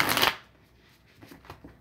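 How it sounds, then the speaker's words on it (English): A deck of tarot cards is shuffled up close in a quick riffle burst at the start, followed by a few faint, soft card taps. "One more shuffle here"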